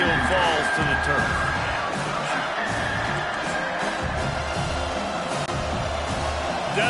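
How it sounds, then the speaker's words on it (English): Stadium crowd at an FSU vs USC college football game, a continuous loud roar rising in the background throughout while a commentator talks over it. "Decibels rising as the crowd gets behind this defense on third down"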